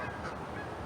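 Canada geese honking outdoors on a cold late-winter day, a steady wash of overlapping calls from a flock in the background throughout, with no talking.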